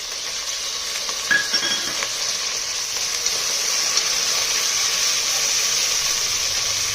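Onions and tomatoes sizzle steadily in a hot pan while cooking for avarekalu pulao, a continuous close frying hiss with a few faint clinks and stirring sounds and no talk.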